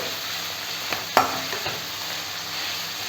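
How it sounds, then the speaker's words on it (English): Sliced onion sauteing in a pan over a low to medium flame for a chicken curry, a continuous close sizzle with a couple of spoon scrapes and taps, no voices. "I'm using some sliced onion. We will allow this onion to saute a little bit."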